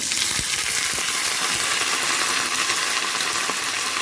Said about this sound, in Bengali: পেঁয়াজটা আমার ভালো করে ভাজা হয়ে গেছে। এরপর আমি সবজিগুলো দিয়ে দেবো।